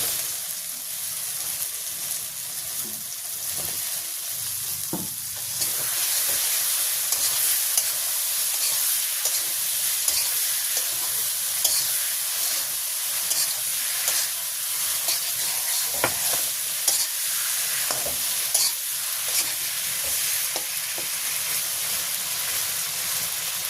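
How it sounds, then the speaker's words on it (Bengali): Potatoes fry with spice masala in a pan for a village-style dish, giving a loud continuous hissing sizzle with occasional stirring scrapes and taps. The sound is close and carries through the whole stretch without talk. "আলু দিয়ে আবার সুন্দর করে কষাই নেব"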